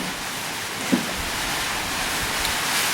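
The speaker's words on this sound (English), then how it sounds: "it's raining now, getting alternating rain and sun here in the tropics" Steady hiss of tropical rain falling, a broad constant wash of noise with no voices, one faint thump partway through.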